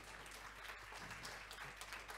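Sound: audience applause for a professor

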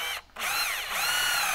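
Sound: power drill driving a screw during Land Rover Defender winch installation

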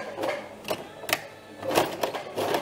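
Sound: sewing machine stitching bread basket fabric

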